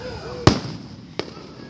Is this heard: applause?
no